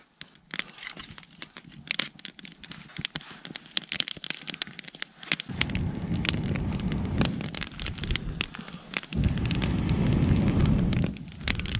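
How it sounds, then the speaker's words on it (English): A no-match campfire built up with wood in cold Alaskan winter weather crackles with dense snapping pops, then swells into a steady loud roar with crackles continuing throughout. "the fire is roaring"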